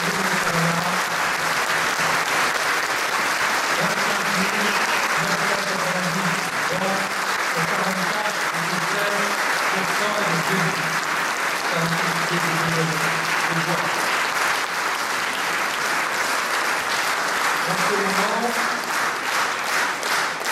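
A crowd at Rennes city hall applauds long and loud as the municipal election result naming Nathalie Appéré mayor comes in, sustained clapping and cheering with a voice speaking over it.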